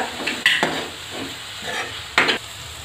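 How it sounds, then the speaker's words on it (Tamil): A thick masala for small-onion tamarind kuzhambu fries softly in a pan while a spoon scrapes and stirs it in occasional strokes, close up, with no talking. "மசாலா வாசனை லைட்டாக போகிற வரைக்கும் வதக்கி விட்டுக்கோங்க."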